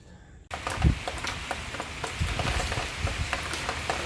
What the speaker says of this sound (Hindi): कैसी ज़बरदस्त बारिश हो रही है